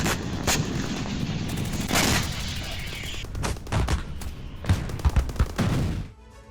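Katyusha rockets strike Israel in a barrage of booms, cracks and rumbling blasts, some sharp and close and others dull and distant, that spills into a ragged series of thuds and rattling reports before fading out.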